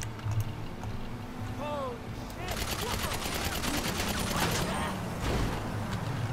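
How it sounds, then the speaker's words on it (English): Rapid bursts of machine gun fire in the online game GTA 5, near and loud, sweeping through the middle and latter part alongside other game noise. "I'm going with the machine gun this time"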